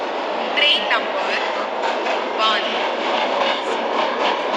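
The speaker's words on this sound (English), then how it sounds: "12655 Passenger Express is arriving at platform number 1" An Indian Railway passenger express hauled by WAP7 electric locomotive 30205 on the Kota to Palwal run gives a steady, moderately loud rushing rumble while a platform announcement voice speaks over it.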